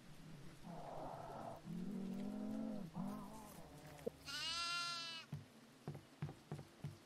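A goat bleats in the Devour horror video game, several wavering, drawn-out cries at close range, followed by footsteps and short thuds.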